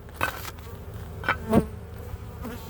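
Honey bees buzz around backyard beehives in a faint, steady hum, with a few brief louder passes as single bees fly close by.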